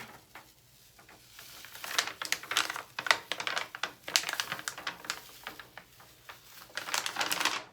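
A sticky Cricut cutting mat is peeled slowly off a surface, giving close crackling, tacky rips in irregular bursts that build and fade, with quiet pauses between them.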